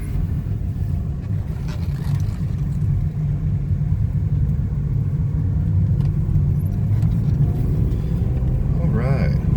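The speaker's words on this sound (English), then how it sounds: "we get it shifting through the gears" A 1998 BMW 323i drives and accelerates, its engine rumbling steadily as it climbs through the gears, with a rising whine near the end and a voice talking over the road noise.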